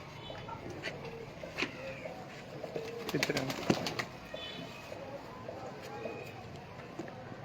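Pigeons kept for sale coo softly in a loft, low murmuring calls with a few brief wing flutters and clatters, fairly close, under ongoing talk.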